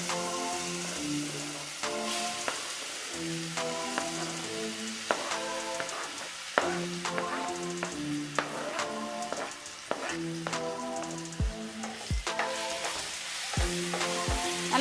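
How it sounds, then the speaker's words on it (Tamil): Chopped nendran banana pieces fry in ghee in a pan, giving a steady sizzle with stirring scrapes and occasional taps throughout, close and continuous, with no talking. "வறுத்த நெய்யில நறுக்கி வச்சிருக்கிற வாழைப்பழத்தை போட்டுக்கலாங்க."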